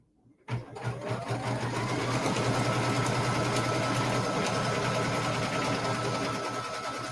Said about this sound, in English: I love watching my embroidery machine stitch out